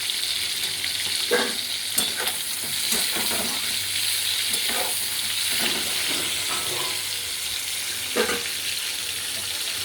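Prawns for a Bengali chingri malai curry frying in a pan, a steady broad sizzle with intermittent stirring scrapes and clinks running throughout, close and moderately loud, with no talking.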